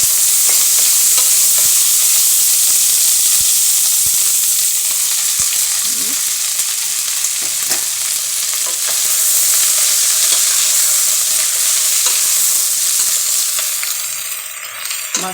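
Green peas fry in white oil in a pan, a steady loud sizzle with occasional stirring scrapes throughout, no voices.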